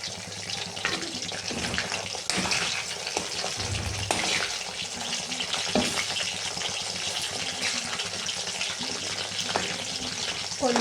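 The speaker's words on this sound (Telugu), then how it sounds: "కొంచెం ఇది బాయిల్ అవ్వాలా" Food boils in a pot on a home stove, a steady close bubbling and sizzling hiss that continues unbroken for about ten seconds.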